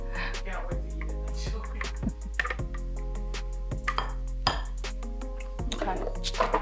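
A utensil scraping and clinking against a pan while stirring cauliflower taco filling, repeated metallic taps and scrapes over a steady low hum.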